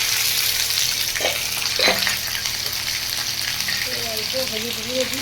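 Ginger paste, chopped tomato and cumin seeds fry in hot oil while being stirred, a loud close sizzle with a couple of scraping strokes and a brief voice toward the end.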